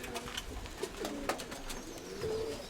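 Pigeons in a dovecote give several soft, low coos over a steady murmur of background sounds in an enclosed loft, with no talk.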